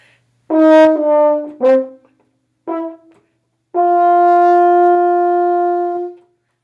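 A French horn plays a short phrase of separate notes, ending on one long sustained tone, clear and close with silence between notes.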